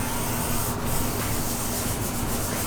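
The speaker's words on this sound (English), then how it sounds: "I'm getting ready to sand this part" Steady abrasive rubbing of sandpaper on Corvette C6 bodywork, smoothing rough overspray, close and continuous for a few seconds with no pauses.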